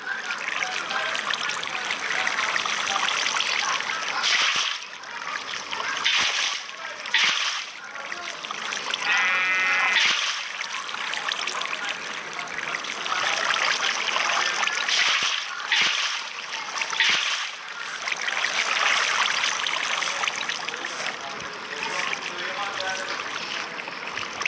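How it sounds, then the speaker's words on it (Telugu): Water poured onto one spot in the Minecraft video game makes a continuous trickling, splashing flow throughout, with other game sounds such as a bleating sheep mixed in. "వాటర్ ఇక్కడ ఒక చోట పోస్తున్నాం."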